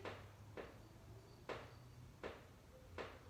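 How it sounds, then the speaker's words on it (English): Wooden floor creaks during a home exercise session, four short faint creaks roughly every three-quarters of a second over a low steady hum, no voice. "My floor's creaking."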